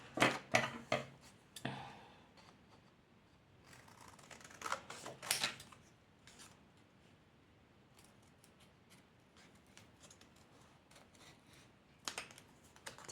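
Scissors cutting out a paper card close by, making quiet, irregular snips and crisp rustles in a few small clusters, with soft handling noise between them.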